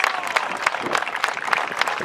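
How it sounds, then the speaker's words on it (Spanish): Outdoors at a gaucho anniversary parade in Bajo Hondo, a crowd gives loud, brisk applause for the agricultural school's group, the clapping dense and rhythmic with faint crowd murmur mixed in. "recibimos con un muy fuerte aplauso a la Escuela Agropecuaria"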